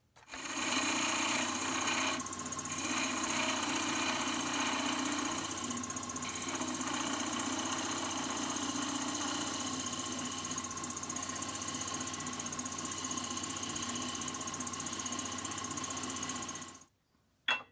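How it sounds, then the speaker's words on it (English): A wood lathe turns a Christmas angel ornament while a skew chisel cuts it, a steady motor hum with continuous rubbing scrape close by for most of the clip, then stopping. "So I'm going to try to take a skew down one more time"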